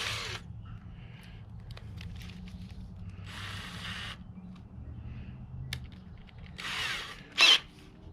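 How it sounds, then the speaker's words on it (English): Short whirring bursts of a small power drill boring pilot holes with a small bit, a few spaced runs with quiet handling and clicks between, the last burst sharper and louder. "Switch in your little drill bit for your little pilot holes."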